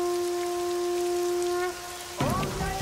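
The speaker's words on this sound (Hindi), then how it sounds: "चैत्र माह में बारिश, ये तो चमत्कार है।" Steady rain falls with a broad hiss for most of the stretch over a held musical tone, then a louder burst of rain and rumble arrives near the end, with no talking.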